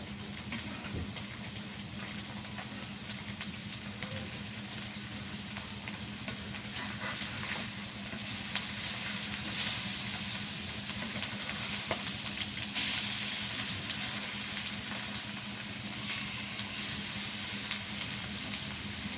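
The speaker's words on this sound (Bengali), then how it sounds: "লাল করে ভেজে নিলাম কত সুন্দর করে" Sarputi fish sizzling in hot oil in a pan, a steady dense crackle and hiss that runs the whole time and grows slightly louder partway through, close up with no talking.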